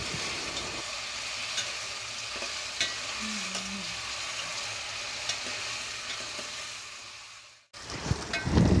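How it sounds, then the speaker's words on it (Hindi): Chicken frying in a pan for shahi deghi-style korma, a steady close sizzle with occasional stirring scrapes, which stops abruptly near the end before a brief clatter. "अच्छी तरह भुनाई करें चिकन की"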